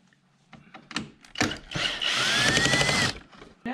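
A cordless power tool backs a screw out of a C7 Corvette bumper, with short clicks and taps, then a steady close whirring buzz that rises slightly in pitch before stopping.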